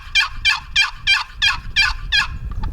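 A hand-blown turkey call imitates a gobble with seven rapid, evenly spaced rattling bursts, loud and close, ending in a short faint trail.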